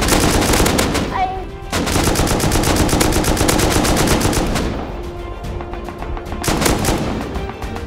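Rapid bursts of gunfire from the survival game Rust, loud and close, crackling almost continuously with short gaps and a brief lull before firing resumes.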